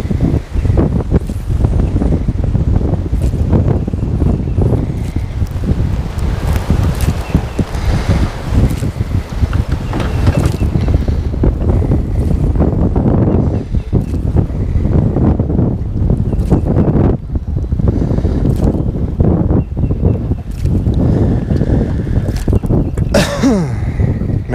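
Strong wind buffets the microphone outdoors while fishing, a constant loud rumbling roar with gusting swells and no break for the whole stretch, no talk heard.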